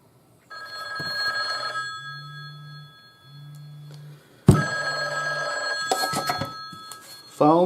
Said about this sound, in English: Phone calls again.